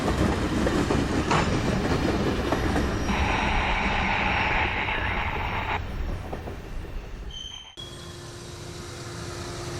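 Freight train rolling through a rail junction as it crosses from one main track and diverges onto a branch subdivision, a loud steady rumble of wheels with clicking over the joints, a brief squeal midway and a sudden drop as it passes.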